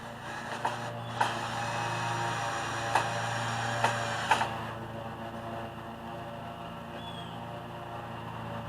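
A driver with a T25 bit turning 2.5-inch screws into wooden latticework: a steady motor whir with a handful of sharp ratcheting clicks, then the whine stops and leaves quiet room tone.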